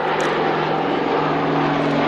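Large propeller aircraft engines, each around 2,500 horsepower and turning propellers over 15 feet across, drone loudly at an airshow with a steady, continuous tonal roar and no break.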